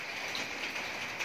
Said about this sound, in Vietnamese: Tây Nguyên mưa rả rích cả ngày cả đêm.